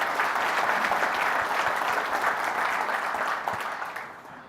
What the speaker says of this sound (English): let's give a round of applause to them to thank them for being here